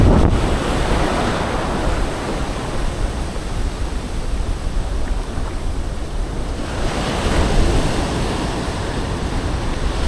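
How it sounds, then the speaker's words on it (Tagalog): Steady surf rolls onto a beach during shore casting, with strong wind buffeting the microphone and swells of louder wave wash rising and falling throughout. "Medyo mahangin na."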